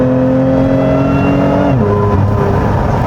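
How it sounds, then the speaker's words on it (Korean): A 2025 Lotus Emira V6 with automatic transmission revs hard on a winding road, its loud, close engine tone climbing then dropping sharply as it upshifts, then building again. "얘가 트랙 모드가 하나 더 있어서 그런지 어, 그 기어를 좀 빨리빨리 그 업시프트를 하는 편이에요"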